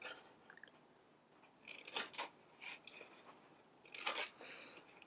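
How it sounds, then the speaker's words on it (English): Scissors snip through paper in a few short bursts of crisp cutting, close and fairly quiet, with pauses between strokes while a bag and notepad set is being made. "So see, you cut at an angle here."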